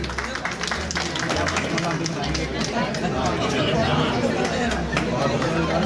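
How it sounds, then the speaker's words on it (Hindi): A seated audience at an honouring ceremony gives a sustained, dense burst of applause amid crowd chatter. "एक बार जोरदार तालियां विनय भाई के लिए।"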